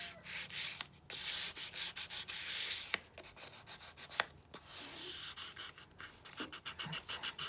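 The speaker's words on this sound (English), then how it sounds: "just burnishing it down" A cloth rubs down tape on a vintage photo album, making faint, close, rhythmic scrubbing strokes in quick repeated bursts with brief gaps.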